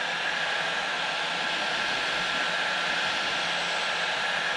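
Steady, loud heat gun blowing hot air onto plastic canard brackets for a Genesis Coupe aero install, producing a continuous even whoosh with no talking over it.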